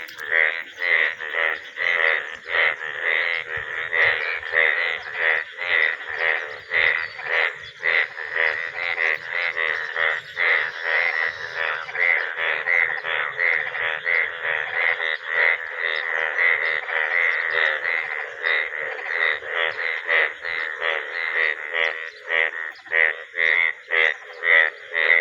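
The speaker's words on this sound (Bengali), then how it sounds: "বৃষ্টি নামছে ব্যাঙে খুব ডাকাডাকি করতেছে" Frogs croak in a dense, steady chorus during rain, rapid rhythmic calls pulsing continuously and loudly throughout with no one speaking.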